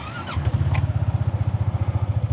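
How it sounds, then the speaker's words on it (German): A car engine cranks briefly and catches, then settles into an even, throbbing idle close by. Its rhythmic pulses continue for the rest of the clip. "So, Fahrzeug an, Motor läuft"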